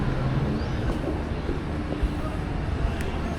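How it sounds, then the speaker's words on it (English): A passenger train arrives at Gerringong station, with a low rumbling rail hum and occasional clanks and thumps heard from nearby against steady background noise. "Now down there's our train, just arrived"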